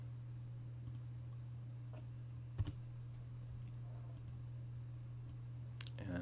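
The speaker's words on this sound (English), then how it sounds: "I'm just clicking and holding down the mouse as I drag" A computer mouse clicks and is held down while dragging in video editing software: a few faint, sparse clicks, one slightly sharper, over a steady low electrical hum with no talking.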